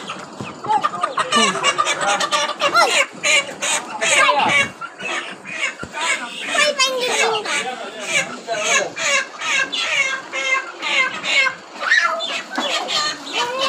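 A rooster clucks and squawks in short bursts, close and fairly loud, mixed with other farmyard bird noises and voices.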